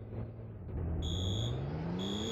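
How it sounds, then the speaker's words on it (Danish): A fire alarm rings in a video game during a bank robbery, with steady high electronic tones starting about a second in over a car engine that revs up and rises in pitch. "Okay, hvem rev i brandalarmen? Vi skal væk, der er nogen, der rev i brandalarmen."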